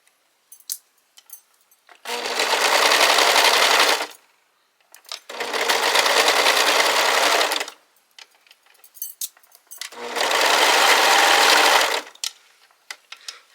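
A sewing machine stitches fabric for a Simplicity 3010 sewing project in three loud, steady bursts of rapid whirring, each a few seconds long. Soft clicks and handling noises fall in the pauses between them.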